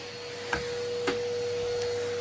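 Vacuum cleaner running steadily while dusting the tops of bedroom doors and furniture, a constant motor whine with two brief knocks as the nozzle bumps surfaces.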